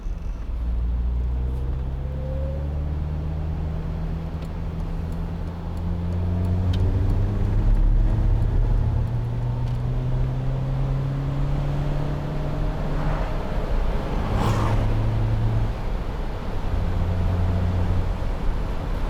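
A 2008 Mercedes-Benz SLK200 Kompressor with a manual gearbox drives along a road, its engine droning steadily from inside the cabin with rising harmonic sweeps as it accelerates through the gears over constant road and wind noise.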